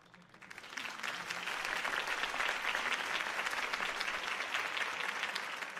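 Crowd applause following Harvey Dent's campaign speech in Telltale's Batman game, dense continuous clapping that swells quickly after a quiet start and holds steady at a moderate distance.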